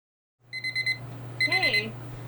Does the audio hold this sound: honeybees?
no